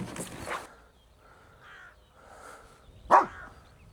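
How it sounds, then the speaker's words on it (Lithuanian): A few crows caw in the distance, spaced apart, with one sharper, louder call near the end; the surroundings are otherwise quiet. "Šuva kaip visada pykstasi su varnam."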